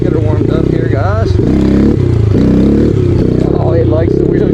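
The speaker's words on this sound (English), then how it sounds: "getting this engine up to temperature" A 2017 Yamaha TTR 110 dirt bike engine idles and warms up with a steady, throbbing putter and small throttle blips. It is close and loud, and someone talks over it throughout.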